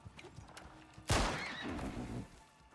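A horse in the survival game Icarus lets out a single loud, close whinny that trails off, preceded by faint hoof clops.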